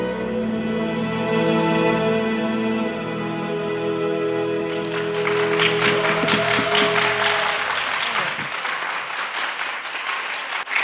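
An audience at a comic convention evening show breaks into dense, sustained applause that rises over fading music and stays loud and steady, with many hands clapping together.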